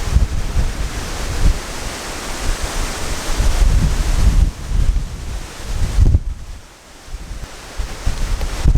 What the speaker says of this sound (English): It's getting super windy